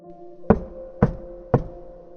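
Three evenly spaced knocks on a door land about half a second apart, close, muted and unhurried against a faint steady hum, with nobody speaking.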